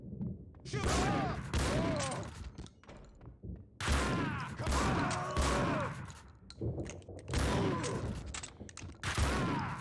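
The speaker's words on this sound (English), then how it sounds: "We're gonna shotgun some dudes." Shotgun blasts in Max Payne 2 come in repeated heavy bursts with mechanical clatter between them, mixed with in-game voices across a busy firefight.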